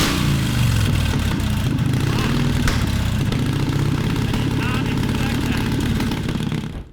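A modified 1924 Harley-Davidson half-mile racer motorcycle engine runs steadily and loudly throughout, a dense throbbing roar that holds level before dropping off at the very end.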